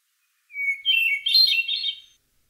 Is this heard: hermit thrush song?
yes